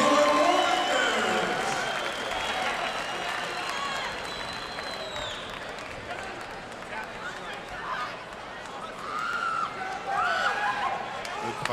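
A crowd at a heavyweight fight night applauds and cheers, a dense steady wash of clapping and hubbub that rises again toward the end, with an announcer's voice over it.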